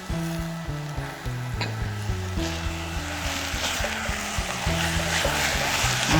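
Minced beef sizzles and crackles steadily in a hot pan for a few seconds, with fairly loud background music playing over the frying throughout.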